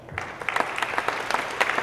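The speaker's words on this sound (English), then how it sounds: "So I'd like to give them a round of applause, please." Audience at a Holocaust Remembrance Program gives a round of applause, starting after a short hush, a moderate patter of individual claps that stays fairly sparse and quiet.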